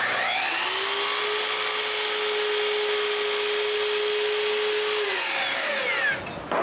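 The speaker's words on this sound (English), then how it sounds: "To make the bottom straight, I try to use the belt sander" A belt sander whirs steadily at close range for about five seconds while squaring the bottom of wooden Christmas decorations, a bright grinding hum with a sustained whine that then winds down and stops.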